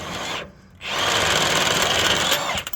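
A power tool spins U-bolts loose on the suspension of a square body crane truck, a loud steady whirring that drops briefly, then resumes and runs close and continuous until a few clattering stops.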